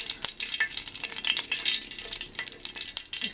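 Four cloves, a small piece of cinnamon and cardamom pods crackle in hot oil as they are stirred for a chicken dum biryani, a dense, close, busy sizzle with scattered pops and spoon scrapes.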